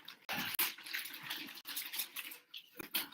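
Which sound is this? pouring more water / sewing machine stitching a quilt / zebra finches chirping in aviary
pouring more water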